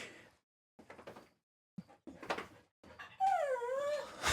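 Dogs whimper and whine at a door, short scattered yelps building into a rising, wavering whine near the end, close and fairly loud against a quiet room.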